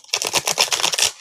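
Rapid riffle of a deck of tarot cards being shuffled close up, a quick burst of about ten papery flutters lasting just over a second, with no talking.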